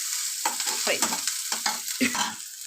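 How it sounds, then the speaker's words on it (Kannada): Onion, ginger and garlic fry in a hot pan, the sizzle broken up by several bursts of stirring and scraping, close and fairly loud, with no voices. "ಈರುಳ್ಳಿನ ಹಾಕಿ ಚೆನ್ನಾಗಿ ಫ್ರೈ ಮಾಡ್ಕೋಬೇಕು. ನಾನಿಲ್ಲಿ ಶುಂಠಿ ಬೆಳ್ಳುಳ್ಳಿನ ಹಾಕ್ತಾಯಿದ್ದೀನಿ."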